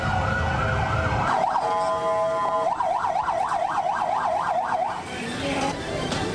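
A fire truck siren wails at a fire near a dense residential area, starting with a slow rising tone, then switching to a rapid repeated yelp, loud and close over traffic noise.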